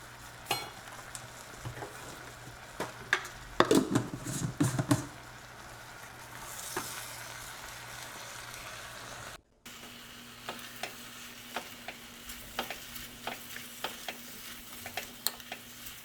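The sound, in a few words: spices being mixed into kidney beans in a Dutch oven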